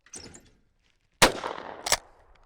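A 120-year-old Winchester 1897 pump shotgun fires outdoors at a clay target, first a faint call, then two sharp loud blasts about 0.7 seconds apart, each with a short echoing tail.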